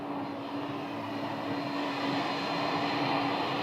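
A fixed-wing airplane coming in to land at Scottsdale airport gives a steady, continuous engine drone with a sustained tonal whine, swelling slightly louder toward the end, with no voices.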